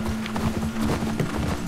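Horse hooves clip-clop in a steady uneven rhythm, close and fairly loud, over a low constant hum in The Last of Us Part 2.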